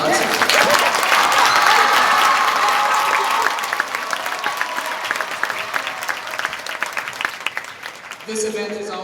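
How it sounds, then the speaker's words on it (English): Loud, dense applause fills a school district event hall in honor of New Haven Unified percussion and color guard groups at James Logan, gradually thinning after a few seconds, with a voice speaking briefly at the end. "I think that deserves a round of applause"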